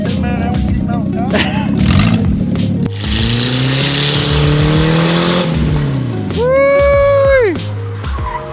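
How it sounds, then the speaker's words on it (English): Race car with its muffler removed on a test drive, the engine roaring loud and close, revving and shifting pitch, with tire squeals and rising whines as it accelerates. "I'm going to take her for a test drive."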